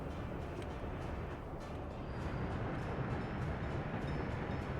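An American locomotive in the railway-building game Workers & Resources rumbles along with a low, steady rolling drone and faint rail noise, fairly quiet and continuous, with no voices.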